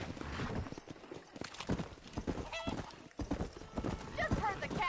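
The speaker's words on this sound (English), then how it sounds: "Get back on that horse." Horse hooves in the Red Dead Redemption video game beat out a steady, rhythmic clip-clop with a brief whinny. The hoofbeats run under ongoing talk and game dialogue.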